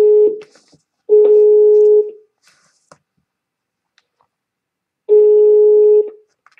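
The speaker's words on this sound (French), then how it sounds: "Maintenant, j'appelle une section commerciale à l'ambassade de Chine" A telephone ringback tone sounds on a call to the commercial section of the Chinese embassy in Brussels. Steady, clear one-second beeps repeat with long silent gaps between them.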